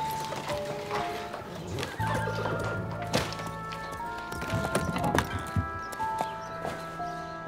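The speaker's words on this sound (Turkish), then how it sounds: "Şimdi şu atı mesela." A horse whinnies repeatedly with tonal neighs while hooves clip-clop steadily underneath, close and fairly loud, in a palace-era carriage setting, with no talk.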